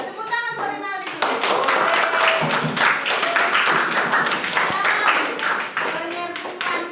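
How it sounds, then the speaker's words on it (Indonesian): Classroom students in a science lesson break into lively clapping for a classmate, dense and sustained for several seconds after a teacher's brief spoken prompt, then tapering off near the end. "Ya, tepuk tangan buat Rinaldi dulu."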